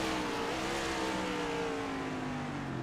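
A race car in iRacing at Circuit of the Americas brakes into turn one, its engine note falling steadily as it slows, a moderately loud and continuous drone with faint tire noise and no talk.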